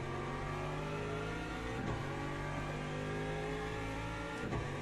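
Inside an LMP2 prototype race car in Le Mans Ultimate, a loud engine holds steady with shifting revs, and other cars sweep past with brief doppler swells near the middle and the end.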